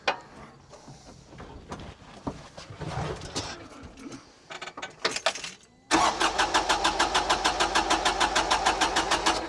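A Kioti 3520 tractor's diesel engine cranks over amid clattering handling noises, then catches abruptly and settles into a loud, steady, rhythmic idle knock close by.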